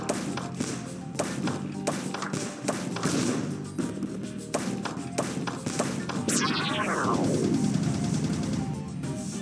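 Wooden balls rolling along a track in a volcanic-themed Zuma mod, a Luxor 3 style effect: a steady run of knocking taps and thuds, followed by a sweeping falling tone near the end, with no talking.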